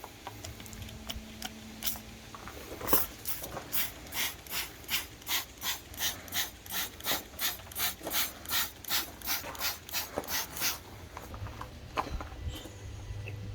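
A trigger spray bottle squirts Purple Power degreaser across an engine bay in a quick run of about twenty evenly spaced sharp spritzes, close and fairly loud, with faint handling noise before and after.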